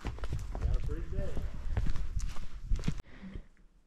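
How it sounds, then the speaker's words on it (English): Horses clop at a steady walking pace along a mountain hiking trail in North Carolina, with people chatting close by over the hoofbeats. "Beautiful horses."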